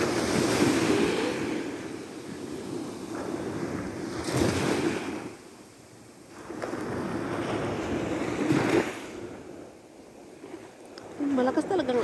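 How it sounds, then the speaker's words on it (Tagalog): Heavy surf rolling in and crashing in repeated surges, with strong wind buffeting the microphone and voices talking over it. "Malakas talagang alon."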